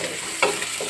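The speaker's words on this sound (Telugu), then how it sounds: "ఈరోజు నేను ఉల్లి ఆకు ఫ్రై చేస్తున్నాను" Onion leaves fry in a pan with a soft continuous sizzle, broken by one brief scrape of a spoon stirring them.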